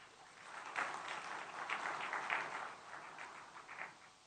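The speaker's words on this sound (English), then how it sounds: "could we please give them a big round of applause?" Audience applause fills a hall at a China-Bangladesh trade and investment conference, a moderately loud wash of clapping that swells and ebbs over about four seconds without voices.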